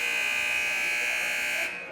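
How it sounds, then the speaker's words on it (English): A basketball game buzzer at a girls' high school game sounds one long, loud, steady electronic tone that holds for nearly two seconds and then cuts off. "The buzzer will sound."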